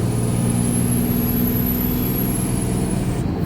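A little red Cummins diesel dually hotshot truck drives fast down an on-ramp, its engine a loud, steady broadband roar with a high turbo-like whine held throughout.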